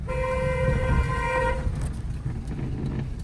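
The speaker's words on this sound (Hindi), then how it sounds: "ब्लाइंड टर्न है, हॉर्न दीजिए" A car horn blares at a blind turn in a narrow lane, one long, steady honk for about a second and a half, then cuts off, leaving engine rumble and road noise.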